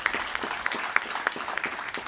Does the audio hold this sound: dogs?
no